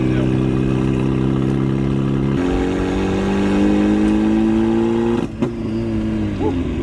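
A turbocharged Mazda Miata pulls hard in third gear, its engine note climbing steadily in pitch, then briefly breaking up and popping near the end, loud and close.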